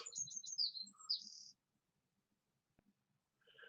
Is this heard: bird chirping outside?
yes